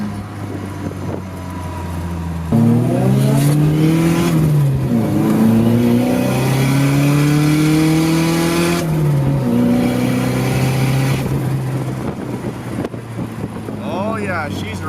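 A Nissan 240SX with a tuned SR20 notchtop engine revs hard and loud, its pitch climbing in long sweeping pulls and dropping between them, with a brief quieter idle at the start and end.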